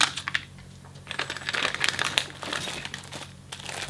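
Emergency foil blanket crinkles and rustles in bursts as it is handled up close, crisp papery crackles with short pauses between them.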